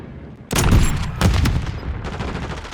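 Sniper rifle fire in the video game Modern Warfare 2, with two loud close gunshot blasts about a second apart, each trailing into a rolling echo, followed by a softer rattling tail.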